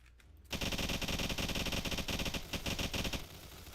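SMG fire in a Roblox game rattles out as one continuous rapid burst, loud and close, lasting about three seconds with no talking.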